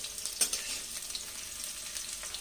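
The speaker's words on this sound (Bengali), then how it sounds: "করলাটা লাল লাল করে ভাজবো" Bitter gourd fries in oil for a Bengali shukto, giving a soft, steady hiss with a few faint crackles and one brief clink near the start, fairly quiet and with no voices.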